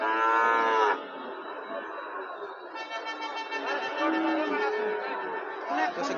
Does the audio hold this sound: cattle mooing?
yes